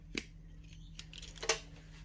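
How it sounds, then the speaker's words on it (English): Scissors snip through the edge of a homemade silicone seahorse mold with resin seeped underneath, giving two or three short, crisp cuts close up in a quiet room. "I'm going to just trim this because I don't want to tear that silicone"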